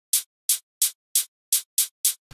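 Layered shaker tail in a melodic house track: seven crisp, bright shaker hits at an even pulse, each with a short fading tail, heard alone and fairly soft.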